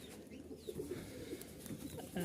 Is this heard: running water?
no